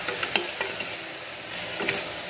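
Mushroom biryani masala with turmeric, salt and chili powder fries in a pan, a faint, steady sizzle broken by a few light scraping clicks of a spoon stirring.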